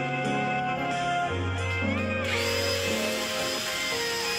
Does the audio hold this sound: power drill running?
yes